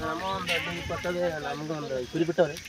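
Sheep bleat repeatedly in wavering, drawn-out calls, fairly close and loud, with a couple of shorter bleats near the end.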